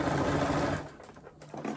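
Sewing machine stitching a bag lining, a close, steady mechanical whirr that runs for under a second and then stops, leaving quiet handling noise and a brief restart at the end.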